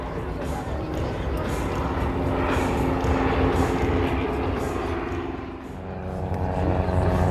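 Aerobatic aircraft performing a slow-fast crossing display at the Habsheim airshow, a steady engine roar that swells and dips over the whole stretch, with a commentator talking over it.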